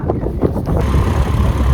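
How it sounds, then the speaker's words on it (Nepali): Strong wind gusts hit the microphone outdoors on a dusty mountain road near Sisneri, Nepal, a heavy low rumbling buffet that grows steadier and louder after the first moment, with no talking heard. "हावा चाहिँ बेसी लागिरहेको गाइज।"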